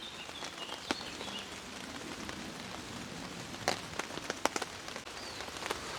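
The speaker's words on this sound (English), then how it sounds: "We're just going to chill under the tarp while it's raining, I think." Steady rain falls by a river at a hammock campsite beneath a tarp, a soft continuous patter with occasional louder drips and splashes, no talking.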